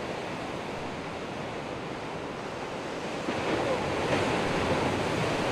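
Sea waves surging against a weathered Outback coastline near a natural sea arch, a loud continuous roar of surf with wind noise that swells toward the end.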